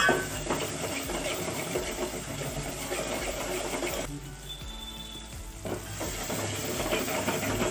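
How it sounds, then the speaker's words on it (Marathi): Masala of raw coconut and garlic stir-fried in oil in a pan, with a continuous close sizzle and scraping stirs, a brief quieter lull midway before the frying noise returns. "त्यामुळं मसाल्याचं तेल सुटेपर्यंत चांगला परतून घ्या"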